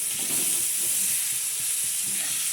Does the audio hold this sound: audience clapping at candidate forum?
no